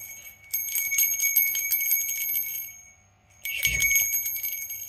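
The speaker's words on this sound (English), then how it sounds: "Gustong-gusto niya yung bell eh." A small bell rings as a cat bats it about indoors, a bright jingling in two bursts separated by a short quiet pause, close and fairly clear with no talking.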